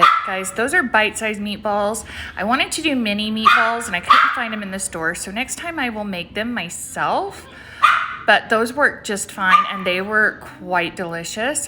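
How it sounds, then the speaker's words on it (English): A pet dog barking in the background of a home kitchen while someone talks through the whole stretch; scattered yips and barks sit under her voice. "I'm sorry about the dog in the background."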